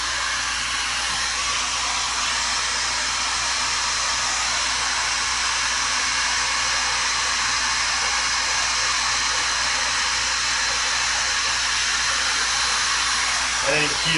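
A heat gun blows steadily across a DIY silver granite epoxy countertop, a continuous broadband hiss-roar held close and loud throughout, with voices speaking faintly beneath it.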